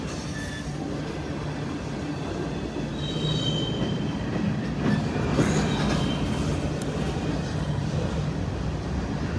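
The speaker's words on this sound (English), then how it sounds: "it looks like we got another train coming up on the siding, the tracks right there" A freight train rolls along the siding at close range on a rural Indiana or western Kentucky line, its steady rumble building midway, with wheel squeal and clattering cars over the tracks.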